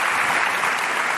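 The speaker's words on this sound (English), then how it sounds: "Please give them a big round of applause." An audience claps for a panel at a conference session, a dense, loud, steady burst of clapping with no talking.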